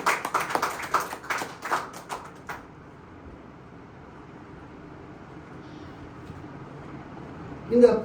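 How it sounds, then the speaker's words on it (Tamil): A church congregation claps to glorify the Lord in a short, uneven burst of hand claps lasting about two seconds, then the room falls to a quiet hum with a faint clatter near the end. "கைத்தட்டி ஆண்டவரை மகிமைப்படுத்தலாமா?"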